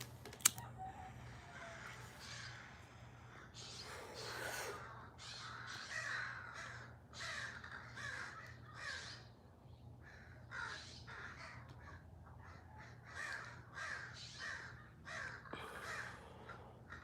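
Crows caw repeatedly in a loose, irregular series, several calls overlapping at moderate distance over a low steady hum, with a sharp click near the start.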